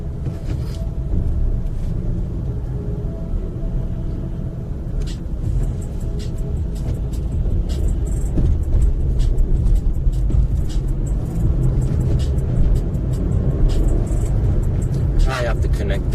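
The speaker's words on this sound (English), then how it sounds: "There's a little bit of traffic right now." Car traffic rumbles steadily from inside a moving vehicle, a constant low road and engine drone with faint clicks and ticks throughout, and no voices.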